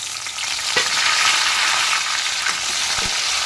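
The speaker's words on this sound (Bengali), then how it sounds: "এবার পেঁয়াজ আর টমেটো ভালোভাবে ভেজে নেব।" Onion and tomato frying in hot oil, a loud continuous sizzle close by, broken by a few soft stirring knocks.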